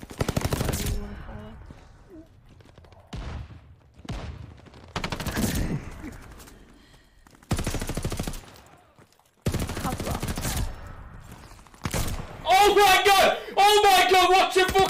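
Bursts of Fortnite video game gunfire, several short loud volleys separated by gaps, with voices talking over the shooting and a musical game sound near the end.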